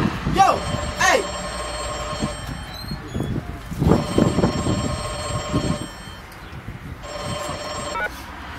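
A telephone rings in repeated long electronic bursts with short gaps between them, loud and close, mixed with rustling and bumping sounds.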